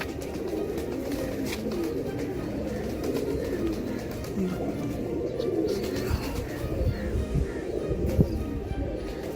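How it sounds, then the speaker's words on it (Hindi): Pigeons of a long-bodied fancy breed with red-pink eyes and sandoori eyelids coo steadily in a loose, overlapping chorus. Soft rustling and faint background noise sit under the calls, and nobody speaks. "ये जो संदूरी पलक वाले कबूतर थे, इनके साइज लंबे थे।"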